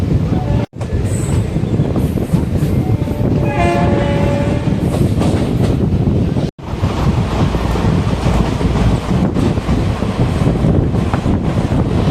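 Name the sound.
Madurai–Coimbatore passenger express train running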